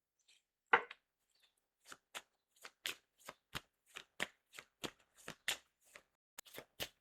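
A Gypsy (cigano) fortune-telling card deck is shuffled up close, a series of about fifteen crisp quick riffling snaps in an uneven rhythm, quiet between bursts, with no speech.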